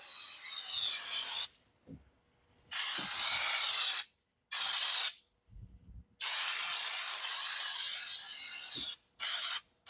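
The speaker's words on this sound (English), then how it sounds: "Now the heavier you spray it, the more it's gonna lay down and be flat." Spray gun applying textured non-skid coating to a hunting boat: loud, close bursts of broad hiss in several long passes separated by short quiet gaps.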